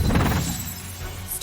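Bewitched Snowball spell cast in the Harry Potter Magic Awakened video game, a brief loud crashing, shattering burst that fades into a hissing magical wash.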